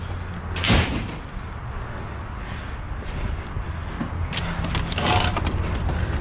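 The back doors of a dumpster are pulled open, with a sharp clank and scrape near the start, a rumbling slide, then another scraping knock toward the end.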